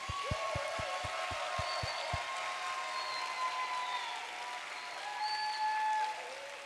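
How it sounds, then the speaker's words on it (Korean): Applause during a Korean Wednesday worship service in a church congregation, fairly faint and rising into a steady wash beneath sustained musical tones, with a low rhythmic thumping pulse early on. "축하와 격려의 박수를."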